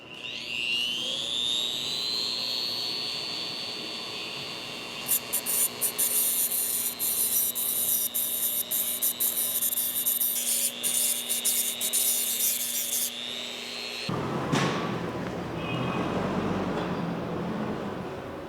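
A Blue Demon STAYSHARP II sharpener with a six-speed motor grinds a tungsten electrode, giving a close, steady high-pitched motor whine with scraping grinding texture before it shifts abruptly to a rougher, noisier sound near the end.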